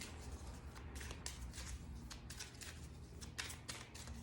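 Tarot cards from a new deck being shuffled by hand, soft repeated riffling and flicking bursts in an irregular rhythm, close and quiet, with no talking.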